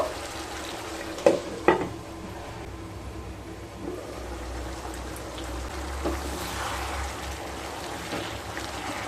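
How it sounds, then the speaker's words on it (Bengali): Chicken pieces for palak chicken are stirred in a pan that has released a lot of water, giving a soft bubbling sizzle with a couple of sharp utensil knocks early on and quiet scraping after. "এবার ভালোভাবে মিশিয়ে নেব।"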